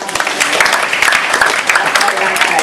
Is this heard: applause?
yes